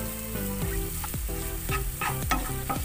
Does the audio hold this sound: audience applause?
no